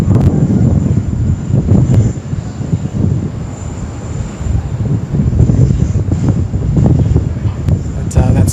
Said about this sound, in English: That southerly wind's just starting to pick up that little bit more.